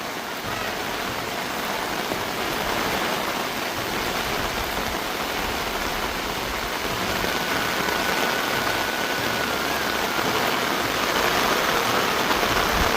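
Continuous rain in the Konkan region hisses evenly throughout, a dense wash of falling water with a faint low rumble underneath.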